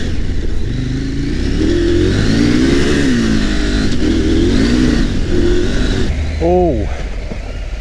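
Husqvarna Norden 901 adventure motorcycle engine while riding, a loud close rumble rising and falling through revs and gear changes with wind noise, a rider's voice briefly over it.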